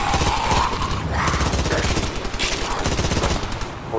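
Rapid automatic gunfire rattles through a chaotic fight scene aboard a ship with hatches, loud close bursts overlapping with shouting voices.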